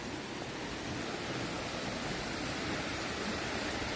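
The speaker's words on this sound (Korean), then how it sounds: "아침 햇살에 비치는 따세 폭포 상류입니다" Water rushes steadily along the upper stream of Tat Sae waterfall near Luang Prabang, Laos, on a sunny morning, a soft, even roar of falling and flowing water with no break.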